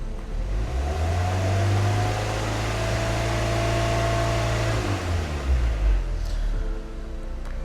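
A tuned car engine on an EMU Black ECU revs as the throttle is raised, holding a loud steady high-rev drone for several seconds before dropping back toward idle; close up, no speech.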